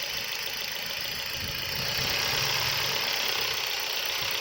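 An engine with its number 2 spark plug pulled, idling unevenly with a steady broadband drone and a knocking, lumpy undertone, close and continuous with no voices.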